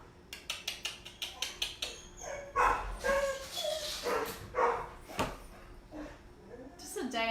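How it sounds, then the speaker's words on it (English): Two dogs bark repeatedly at another dog outside on a farm, a quick run of sharp yaps followed by louder, fuller barks close by, mixed with a voice scolding them. "There's a dog outside, and both of my dogs are going crazy."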